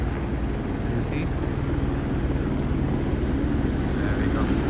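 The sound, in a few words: helicopter flying overhead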